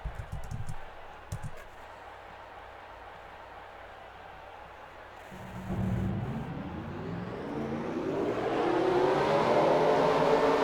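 Stock car engines firing up at Dubai in an Xfinity Series racing game, a low rumble that swells after a quiet stretch into a rising, layered roar of many revving engines, with faint clicks early on.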